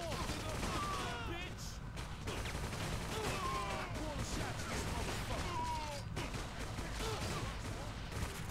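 Rapid bursts of gunfire from the video game 50 Cent: Bulletproof crackle through a loud, busy mix, with voices and speech-like chatter running over the shooting throughout.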